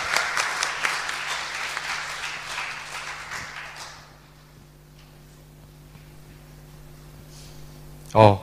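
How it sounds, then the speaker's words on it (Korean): A church congregation applauds as a youth member comes forward to give testimony, a dense burst of clapping for about four seconds that fades to a quiet room with a low hum, then a sharp close thump at the end. "다시 한번 박수 한번 할까요?"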